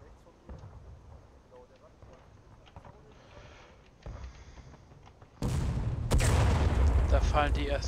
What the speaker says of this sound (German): Ah, die Artillerie eröffnet das Gefecht.